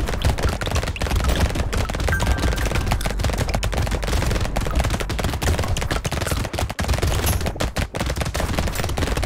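Rapid, dense gunfire from the video game Brotato rattles continuously and loudly, with overlapping shots forming a near-constant barrage with only a few brief dips.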